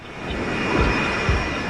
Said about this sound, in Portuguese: Deveriam estar decolando agora.